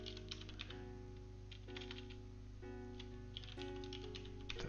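Quick bursts of keystrokes on a computer keyboard, light clicky taps in short clustered runs with brief pauses, heard quietly over a steady electronic hum with no talking.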